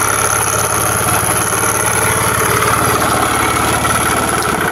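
A carbureted Honda Vario 110 scooter idles steadily up close, a continuous loud engine drone with even vibration and no speech.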